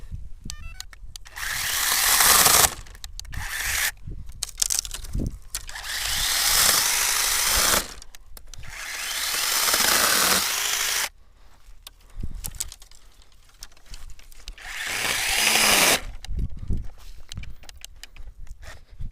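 A power tool cuts back bushes to fence off an area from sheep outdoors, running in several loud, close bursts of whirring cutting separated by brief pauses, with faint rustling and occasional birdsong between runs.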